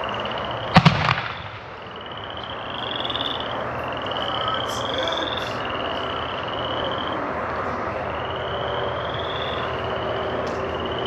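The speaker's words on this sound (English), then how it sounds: "This is a 50 millimeter, 9-time color changing comet." A Spirit of 76 50 mm nine-time colour-changing comet firework launches with one sharp crack and a brief crackle near the start. Afterwards, frogs croak and chirp steadily in the night background.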